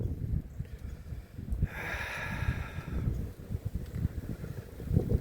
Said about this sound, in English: The blowing snow is so unpleasant.